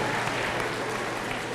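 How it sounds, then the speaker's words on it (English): An audience applauding at a health talk, a dense even patter of many hands clapping at close range, with no voices over it. "Give them a round of applause."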